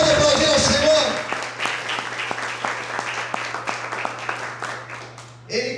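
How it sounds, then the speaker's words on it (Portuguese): A church congregation claps steadily in a dense, sustained round of applause lasting several seconds, with a loud voice at the start and a brief burst of sound at the end. "Você pode aplaudir ao Senhor?"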